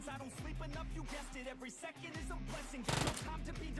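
Gunfire in a battle royale video game: bursts of rapid shots under loud background music with a melodic, stepping tune, followed by a dense crackling burst near the end.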